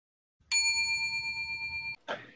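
A single bright bell ding rings out clearly and decays over about a second and a half in quiet surroundings, then a short muffled knock follows.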